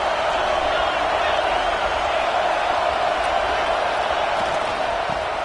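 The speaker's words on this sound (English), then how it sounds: "this crowd imploring its defense to stand firm" A huge college football stadium crowd in a video game roars steadily and loudly as fans urge their defense to hold in the red zone, a dense unbroken wall of cheering with no pauses.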